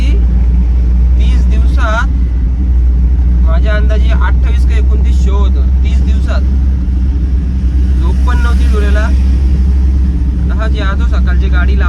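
A car engine rumbles steadily as the vehicle drives along, with a person talking intermittently over the constant low drone.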